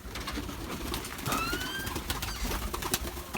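Tumbler pigeons in Gaziemir, Turkey, coo and call softly amid a busy outdoor background, with a brief flutter of wings and a few thin whistling tones.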